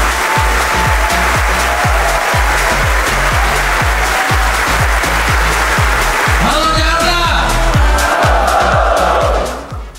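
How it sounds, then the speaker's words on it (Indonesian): Applause from a large trader audience at an Indonesian trading seminar, a loud continuous wash of clapping joined by whoops and cheering near the end, with rhythmic thumping music underneath. "Tepuk tangan."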